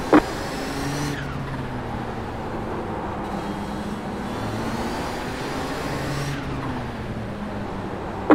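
A Nissan GTP race car engine roars in the iRacing sim during an IMSA Vintage race at Mid-Ohio, holding a loud, steady drone with shifting pitch as the car accelerates and lifts.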